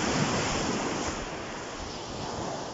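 Steady sea surf washing onto a quiet lagoon beach in the provinces, a continuous broadband wash with soft wind buffeting, close and fairly loud, no voices.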